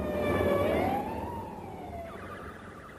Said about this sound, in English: quickly ran into a barrage of police sirens